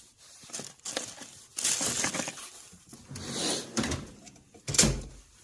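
A Snap-on toolbox drawer slides open and shut with several metallic rolling and rattling sweeps, ending in a sharp clack, close by in a workshop with no speech.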